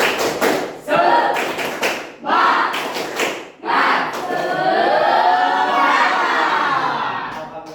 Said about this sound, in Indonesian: Kita tepuk semangat dulu. Ya, 1, 2, 3, tepuk semangat